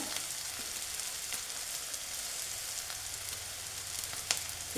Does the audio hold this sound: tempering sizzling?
yes